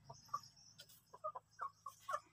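Chickens in a coop on a sloped farm plot cluck in short, uneven bursts, with several birds calling close by and a few louder squawks near the end.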